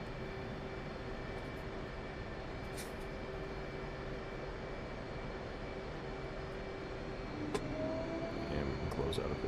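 An F/A-18C jet in DCS World idles and begins to taxi, giving a steady, even engine hum with a faint high whine, followed by a brief mechanical clunk and a slight rise in level toward the end.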